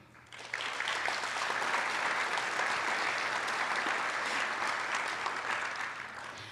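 Sustained applause from an audience at a high school National Honor Society induction ceremony, honoring parents, family and teachers; dense, steady clapping begins abruptly and fills the hall before slowly tapering near the end.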